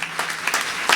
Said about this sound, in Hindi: रोहित शर्मा के लिए जोरदार तालियां बजाकर उसका स्वागत कीजिएगा।